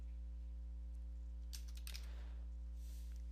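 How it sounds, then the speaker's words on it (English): Quick keystrokes on a computer keyboard as a search for device manager is entered in the Windows start menu, a short cluster of faint clicks over a steady low electrical hum, with no talking. "we're going to type in device manager"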